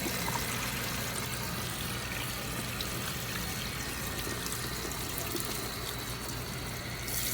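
Hose water runs steadily over hair during a rinse in a Wavy Baby perm process, a constant close splashing wash with no pauses and no talk.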